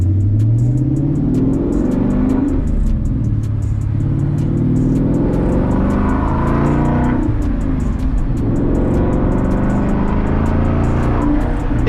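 Ford Mustang GT 5.0 V8 fitted with an MBRP race exhaust revving repeatedly, deep loud engine rises and falls in several pulls with a steady rumbling burble between, close up and alone with no talk.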